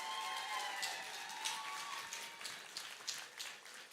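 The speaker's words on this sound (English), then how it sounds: "Give them a round of applause." A crowd applauding steadily, many hands clapping in a dense continuous wash that swells slightly at moments, with no talking.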